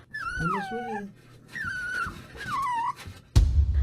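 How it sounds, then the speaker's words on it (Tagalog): A puppy trapped inside a house air vent whimpers and yips in thin, high, wavering cries, two or three drawn-out whines with pauses between, followed by a sudden louder knock or thump at the end. "maririnig ang mahinang iyak ng isang tuta"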